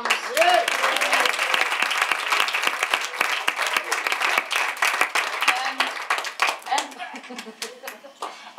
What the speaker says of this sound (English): I'd like you all to join me in giving a warm round of applause to our star